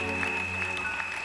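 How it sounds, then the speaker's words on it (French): A church congregation applauds during a worship service, a short burst of steady clapping layered over sustained keyboard tones, with no clear voices. "Acclame très fort le roi de gloire."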